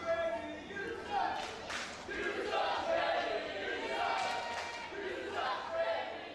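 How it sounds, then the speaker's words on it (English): Wrestling crowd at a heavyweight title match cheering and shouting in a broad, continuous roar with swelling waves, distant and fairly faint in the hall. "listen to that crowd."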